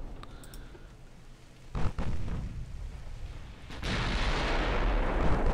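Naval gunfire and a magazine detonation in the warship game Ultimate Admiral: Dreadnoughts: a heavy boom near two seconds, then a louder, sustained roaring blast rumbling on to the end, with no talk.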